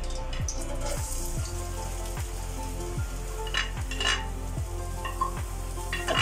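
Onions fry in oil for a chicken samosa filling, a steady sizzle with regular scraping stirs of a utensil against the pan.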